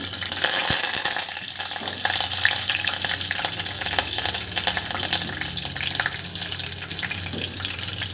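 Green chillies and curry leaves frying in hot oil with cumin seeds for a dal khichdi tempering: a dense, continuous sizzle with crackling and spitting throughout, close and fairly loud, with no talking.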